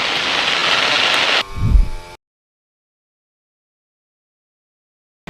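Heavy rain at the 2021 Russian Grand Prix in Sochi pours down as a loud, dense hiss for over a second, then a brief low rumble before the sound cuts to silence.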